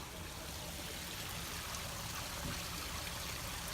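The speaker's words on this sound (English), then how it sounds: "And you hear that beautiful water." A small Kentucky creek trickles steadily over little waterfalls, a soft, continuous rushing and babbling of water close by with no other sounds.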